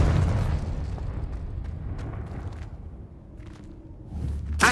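A Confringo explosion spell bursts in Hogwarts Legacy with a rumbling boom that fades into low debris and movement noise, then a sharp pop at the end.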